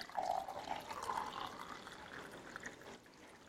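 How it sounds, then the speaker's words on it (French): A glass fills with lukewarm water for baguette dough, a steady close pour that gurgles and rises briefly before easing off near the end. "Et là, on ajoute de l'eau tiède. Donc, le premier verre, je le remplis."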